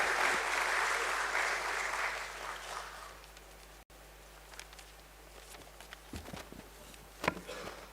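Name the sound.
applause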